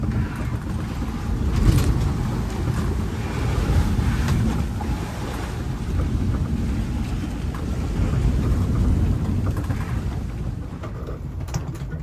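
Strong wind of over 20 knots buffets the microphone aboard a sailboat over the steady wash of waves, a loud, continuous roar with gusts rising and falling at sea.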